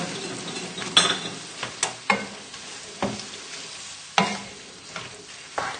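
Chilli chicken and noodles are stir-fried in a pan, a soft sizzle broken by repeated scraping and tossing strokes at an uneven rhythm, close by and with no talk.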